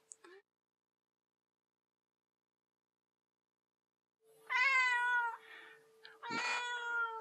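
A pet cat lets out a few clear, close meows in a row after a long near-silent stretch, with a faint steady hum beneath.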